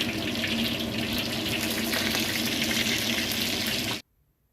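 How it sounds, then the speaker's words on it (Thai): Whole tilapia frying in hot oil gives a loud, steady sizzle and crackle for about four seconds, then stops abruptly into near silence. "ก็ทอดไปเรื่อยๆจนกว่ามันจะสุกค่ะพี่น้อง"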